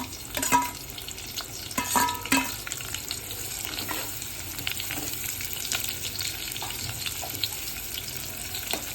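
Two finely chopped onions frying in hot oil for vegetable biryani, a steady close sizzle with a few scraping stirs near the start, no voices.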